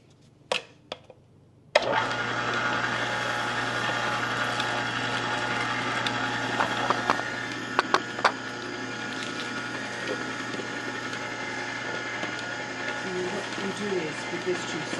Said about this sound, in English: So let's start juicing.